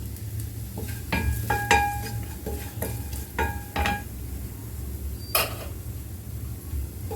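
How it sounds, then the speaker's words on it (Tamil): Ground spice powder sautés in oil in a metal pan for a watermelon-rind kootu, with a soft sizzle under repeated scraping and clinking of a spoon against the vessel, irregular strokes across the clip. "இந்த பொடியை வந்து நம்ம சேர்த்து ஒரு எண்ணெயிலே நல்லா வதக்கிக்கிறோம்"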